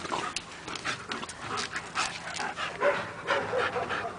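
A German Shepherd and a Staffordshire Bull Terrier panting while playing, rapid breathy huffs close by with a few faint whimpers, heard alone.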